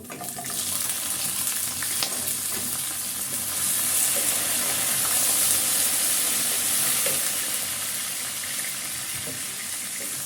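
Potatoes go into a pan of frying mixed vegetables, raising a loud, steady sizzle with stirring scrapes that continues without speech.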